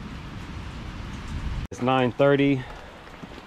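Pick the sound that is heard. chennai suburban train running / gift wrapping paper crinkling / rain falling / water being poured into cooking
rain falling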